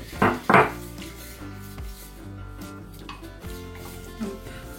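Two cosmetic powders are worked together into a smooth paste: two sharp scraping knocks open it, then soft, faint rubbing and scraping continue over a low steady hum.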